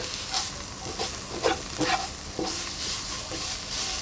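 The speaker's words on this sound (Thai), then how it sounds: "จากนั้นเราก็จะ ผัดนะคะ" Tuna filling for Thai pan sip dumplings being stir-fried in a pan: soft oil sizzle under repeated scraping and stirring strokes from a spatula, close up, with no voices.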